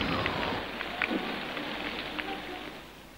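Rain sound effect in a Slovenian children's story, a steady hiss of heavy rain with wind, soft drops spattering throughout.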